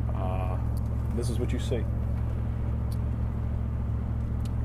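A steady low road rumble fills the cab of a moving pickup truck out in the countryside, constant throughout, with a brief bit of speech at the start.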